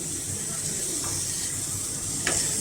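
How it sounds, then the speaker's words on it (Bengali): Chicken pieces fry in butter without oil as they are stirred in a pan, producing a continuous close sizzle with soft scraping movements and a brief louder clink near the end. "নেড়ে নেড়ে চিকেনটাকে আমি একটু ভাজি করে নিচ্ছি।"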